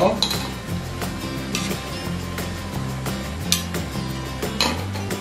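Pork belly and udon being stirred in a pan, with repeated scraping clinks of a utensil against the metal and a steady low sizzle running under the motion throughout.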